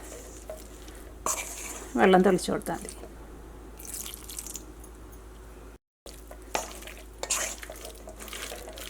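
Chicken pieces being stirred and squished in a loose cornflour and maida batter, wet sloppy mixing sounds in uneven bursts, close up, with a person talking over it.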